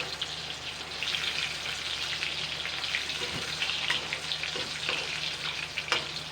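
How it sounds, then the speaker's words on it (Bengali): Small fish for a summer fish curry fry in hot oil in a pan, a steady dense sizzle with occasional sharper pops and crackles, close and continuous for the whole stretch. "মাছগুলো কিন্তু লাল লাল করে ভাজা হয়ে গেছে।"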